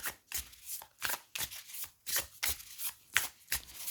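A Thistledown Oracle card deck is shuffled by hand, giving quick papery riffles and slaps in a regular rhythm of about a dozen bursts, close and clear with no talk.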